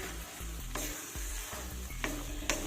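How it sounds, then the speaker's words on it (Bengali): Spinach paste frying in a pan over medium heat, a soft steady sizzle broken by several scraping stirs of a spoon against the pan, close and quiet. "এবার গ্যাসের হিটটা মিডিয়ামে রেখে এটাকে খুব সুন্দরভাবে ভেজে নিতে হবে"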